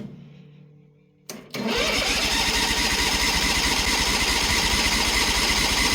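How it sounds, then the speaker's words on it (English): A Bolens HT-23 lawn tractor engine, choked and low on fuel, bursts into loud, steady cranking after a quiet stretch with faint background hum, churning on without a pause to the end. "Turns over fast enough, but she was almost right out of fuel, so she has to prime her whole self up again."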